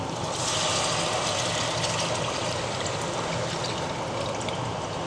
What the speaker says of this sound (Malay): sambal dah garing, kita masukkan air asam